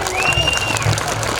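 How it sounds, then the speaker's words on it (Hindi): Audience applause at an inaugural and prize distribution function: steady, moderately loud clapping from a crowd carries through the whole moment, with a voice speaking over it. "जोरदार तालियां बजाएं।"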